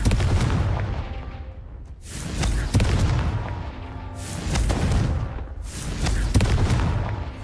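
Confringo fire-blast spells in Hogwarts Legacy erupt as three or four booming explosions, each a loud burst that rolls off before the next, close and heavy in the low end, with no voices.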